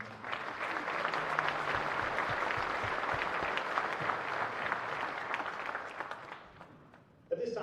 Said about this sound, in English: Please give them a round of applause for them.